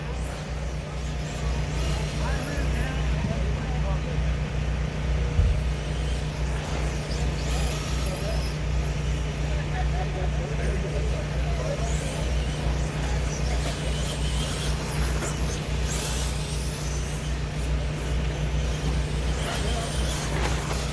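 Late model race cars at a four-car field on a raceway before a main event, giving a steady, dense engine rumble with a low constant hum and faint voices in the background.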